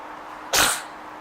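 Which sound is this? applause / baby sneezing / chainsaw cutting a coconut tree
baby sneezing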